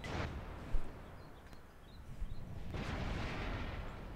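Artillery fire in the World of Tanks video game comes as a sharp, distant boom followed by a quieter second blast and a low rumbling wash, all fairly faint.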